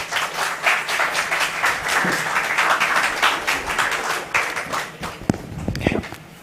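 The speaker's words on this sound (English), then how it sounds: "A round of applause." Audience applause at an investment summit in Belize, a dense sustained patter of many clapping hands from a seated crowd, tapering into scattered claps and a few footsteps near the end.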